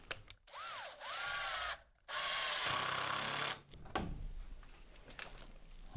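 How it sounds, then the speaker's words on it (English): A power drill whines in two long bursts, driving screws through wooden stud work into blocking, with a short pause between them, then scraping and handling noises close by. "I'm going to insert some screws through the blocking, or through the stud work into the blocking"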